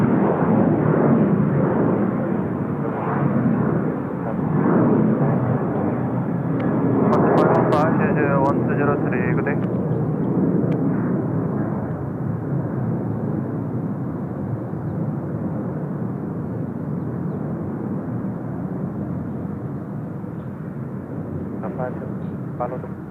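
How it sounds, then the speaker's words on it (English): An Airbus A350 airliner arriving from Paris at Seoul Incheon Airport, a loud steady jet engine roar that slowly fades, heard from a spotting position with a voice talking over it. "There we go, in from Paris, the Airbus A350."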